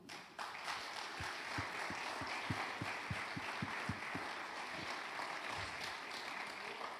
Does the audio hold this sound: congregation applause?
yes